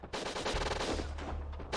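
Rapid automatic gunfire from the video game Winback: Covert Operations, a dense continuous burst of shots lasting under two seconds, close and with no talk.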